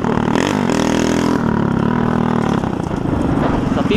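Car engine revving loudly up close, its exhaust giving rough, popping crackle as the revs rise and drop, a steady droning roar throughout.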